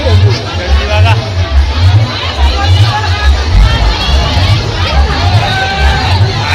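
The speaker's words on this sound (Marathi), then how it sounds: "गर्दी नुसती गर्दी नॉनस्टॉप" A dense crowd throngs the Kelamba Aai temple darshan at Kharoshi in 2024, producing loud, nonstop hubbub of overlapping voices and chatter with a steady low rumble underneath.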